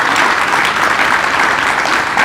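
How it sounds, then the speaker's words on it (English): Steady, dense applause from an evening celebration audience at a design concept unveiling, loud and continuous throughout with no talking over it. "I want you to give yourselves a big round of applause."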